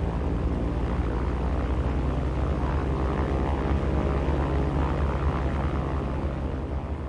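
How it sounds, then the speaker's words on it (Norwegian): WWII Barracuda dive bombers with Corsair, Hellcat and Wildcat fighter escorts taking off, heard as a continuous dense propeller-engine drone holding steady and loud throughout. "Grytidlig om morgenen letter 42 Barracuda stupbombere, eskortert av 21 Corsairs, 20 Hellcats og 10 Wildcats."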